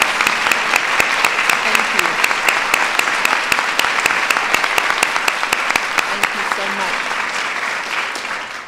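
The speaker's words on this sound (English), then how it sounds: "so we can give them a round of applause" Audience applause for the senior enlisted advisors and their wives at a women-in-the-military event, a loud, steady burst of many clapping hands that holds for about eight seconds before easing slightly.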